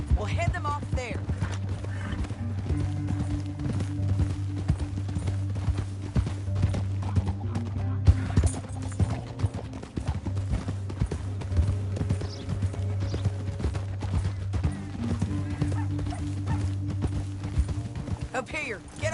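Horse hooves clip-clopping in the video game Red Dead Redemption 2, a steady rhythmic trot that continues under a music score while characters talk over it.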